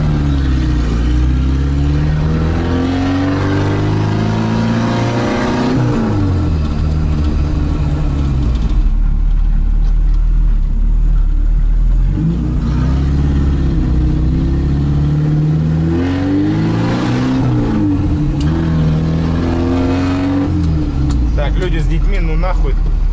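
A 1957 Moskvich 402 engine runs steadily and loud while driving, rising and falling through revs and gear changes over a constant low rumble, with someone speaking over it.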